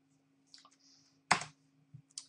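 A few separate key presses and clicks on a computer keyboard, one louder sharp tap in the middle, then softer taps with quiet gaps and a faint electrical hum underneath.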